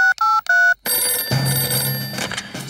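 A cartoon telephone rings in three short, loud electronic trills, then a brighter magical shimmering effect with a soft background of music follows.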